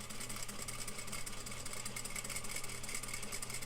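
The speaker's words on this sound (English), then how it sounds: "Coming up to my second pin, I'll pull that out and I can continue sewing." A sewing machine runs steadily while stitching a flat felled seam, a quiet, even mechanical whir with a fast rapid stitch pulse and a low hum throughout.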